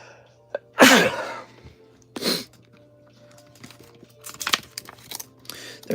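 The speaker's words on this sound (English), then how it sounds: "I gotta sneeze." One sharp, loud sneeze bursts out close by in a quiet card shop, followed by a smaller second burst and then soft handling noises and faint crinkling.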